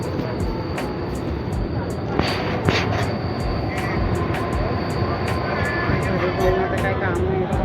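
A train runs through heavy rain, giving a continuous rumbling, rattling roar with a few sharper knocks, while people talk nearby over the noise.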